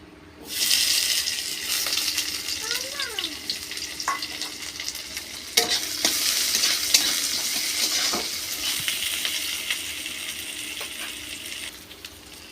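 Onions sizzle steadily in hot oil, a constant bright hiss with a few faint clinks and scrapes.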